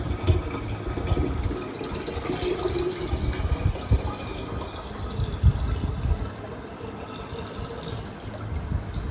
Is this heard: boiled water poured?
yes